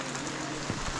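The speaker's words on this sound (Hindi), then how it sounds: "बारिश हो रही बहुत तेज" Heavy rain falls at Chopta on the trek toward Tungnath, a steady, close hiss of drops over a faint low rumble, lasting only a moment.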